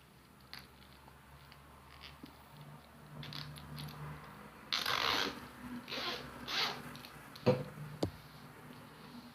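Zipper slider being fitted onto a zipper while sewing a bag, heard as soft clicks and scraping rustles, with a few louder bursts near the middle and sharp ticks toward the end, no voices.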